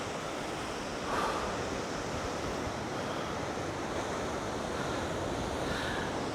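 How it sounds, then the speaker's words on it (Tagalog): Steady wind blows hard at a rocky seaside point in General Nakar, Quezon, mixed with the wash of surf, a continuous broadband rush with slight gusts and no voices. "Mahangin pala dito"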